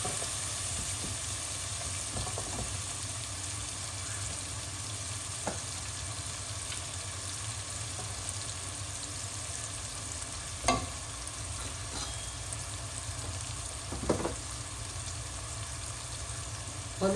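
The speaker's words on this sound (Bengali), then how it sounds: "এই আদা রসুন আর পেঁয়াজগুলা ভাজা হচ্ছে।" Ginger, garlic and onion fry in a pan with a steady low sizzle and crackle throughout, and a few sharper clinks and scrapes stand out near the end.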